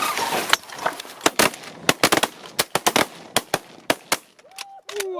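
Shotguns fire at sandhill cranes during a hunt in the Texas Panhandle, a fast, uneven string of sharp, loud outdoor blasts. Near the end, warbling crane calls ring out.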